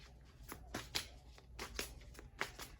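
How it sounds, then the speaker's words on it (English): Tarot cards are shuffled by hand in a quick run of soft, rhythmic riffling slaps, quiet and close, with no talking. "I'm going to shuffle"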